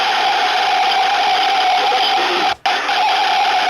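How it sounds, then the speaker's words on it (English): Harsh, buzzing cartoon gargling effect for an animatronic character, a loud continuous noisy rasp that cuts out briefly near the end before resuming, with no talking. "that's the sound of Phantom Mangle gargling"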